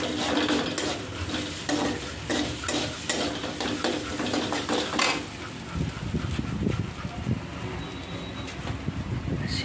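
Maggi noodles with egg, onion and spices being stirred in a pan, sizzling with scraping spatula strokes for about five seconds, then quieter clinking and shuffling in the pan, with bird cooing faintly in the background.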